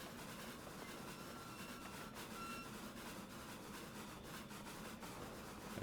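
A Roblox steam locomotive slowing down, a faint steady rumble of rolling train with rhythmic clanking and a thin high whine, continuous and distant.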